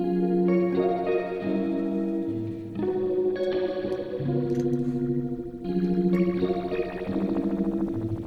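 A phaser effect on an Elektron Octatrack sweeps over a sustained, harmonically rich synth tone. It plays as steady, loud swelling chords that shift at a few points with slight clicks, and no one speaks.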